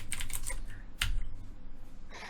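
Rapid keystrokes on a computer keyboard as a project name is entered into a laboratory data app, close and crisp clicks in short bursts with brief pauses.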